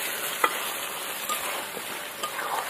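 Chicken curry cooking down in a pan, kashano style, gives a steady mid-level sizzle with scattered scraping and stirring knocks.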